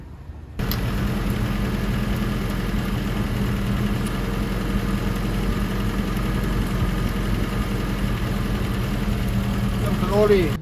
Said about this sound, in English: the truck was soon running, but it wasn't running right